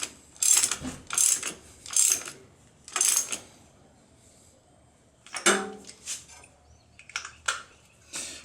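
Ratchet clicking as it tightens an NGK spark plug on an old three-wheeler: several short bursts of sharp metallic ratcheting, close up, separated by pauses, with further quicker clicks near the end.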